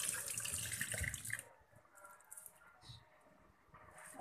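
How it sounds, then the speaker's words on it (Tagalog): A kitchen tap runs as onions are rinsed under the water, a loud splashing stream at first that drops to softer trickling and faint handling sounds. "sibuyas bombay. Hugasan muna natin."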